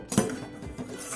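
A metal lid on a pot of eggplant and bori curry is eased loose with one bright clink, followed by faint scraping and rattling close by.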